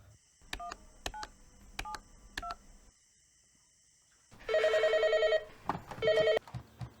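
Several short electronic keypad tones, then a burst of louder dual-tone beeps in two groups, close and clear with no talking.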